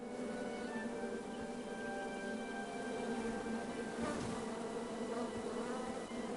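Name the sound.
bees buzzing in the video game King's Quest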